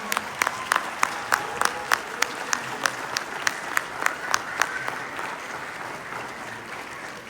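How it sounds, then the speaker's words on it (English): Applause from an audience, with sharp individual claps standing out early and the clapping gradually thinning and fading toward the end. "Please join me in giving a warm round of applause to Representative Robin Bartleman."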